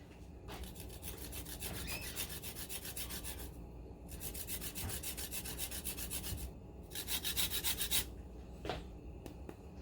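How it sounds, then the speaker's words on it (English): A lime being zested on a grater for a crema, a steady rasping scrape in long continuous strokes with brief pauses between passes, close and fairly loud with no talking. "to finish up the crema, we're going to zest a lime."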